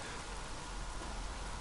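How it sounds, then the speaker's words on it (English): Steady rainfall in the Days Gone video game, a dense, even hiss of drops pattering on surfaces with no pauses and no voices. "Why is it raining?"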